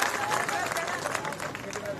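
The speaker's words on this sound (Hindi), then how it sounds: "जोरदार तालियों से आप उनका वेलकम करें" Rally audience in Ateli, southern Haryana, claps and cheers to welcome a speaker, a dense, steady wash of applause and crowd noise with scattered voices mixed in throughout.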